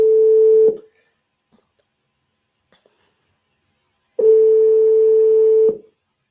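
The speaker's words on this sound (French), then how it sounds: "Alors, ça va sonner." A telephone calling an insurer's claims line rings twice, each a loud steady electronic tone, one short at the start and a longer one about three and a half seconds later, with near silence between.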